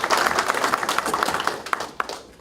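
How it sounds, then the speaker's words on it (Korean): Audience at a political party meeting clapping, a brief burst of many hands applauding together, dense and moderately loud, tapering off with a few distinct claps. "저희들이 박수 한번 드리겠습니다."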